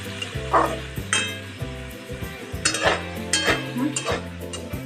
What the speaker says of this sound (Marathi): आता ह्या मिरच्या आले लसण्याची पेस्ट टॅमॅटो घालून परतून घेते